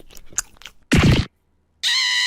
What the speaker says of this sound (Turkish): Aa yanak ısırmak